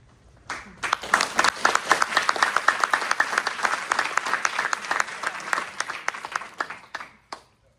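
An audience at a school board meeting breaks into applause, a burst of many hands clapping that swells, holds steady for several seconds, then thins out into a few last claps.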